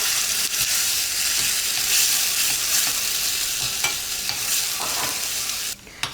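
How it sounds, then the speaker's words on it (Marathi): An onion and tomato puree is stirred into a hot tempering of dal and urad dal for a chutney, giving a steady close sizzle with scraping stirs and a brief pause near the end. "आता यामध्ये आपण घालूयात ही कांदा आणि टोमॅटोची प्युरी"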